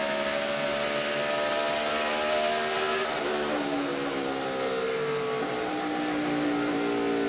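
Race cars roar past at Homestead in the 2012 NASCAR Ford EcoBoost 400, a sustained field of V8 engines howling at speed with pitch sweeping as cars pass, moderately distant and continuous throughout.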